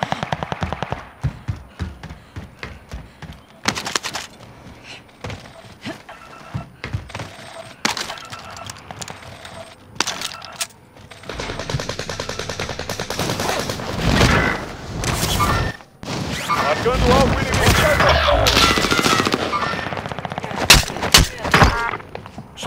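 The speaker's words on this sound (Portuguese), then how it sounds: "Estão atirando em mim." Bursts of gunfire in a Warzone match, sharp cracks and automatic volleys scattered throughout and growing denser, loud and close, with in-game voices and callouts heard between shots.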